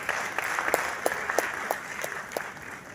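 Audience applause at a national youth summit in an arena in Agbor, a dense wash of clapping with a few distinct sharp claps standing out near the front, sustained and fairly loud.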